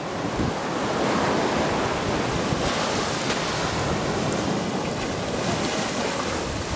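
Rough sea surges and breaks in a continuous loud wash of waves, mixed with heavy wind buffeting the microphone near a boat, and no talk.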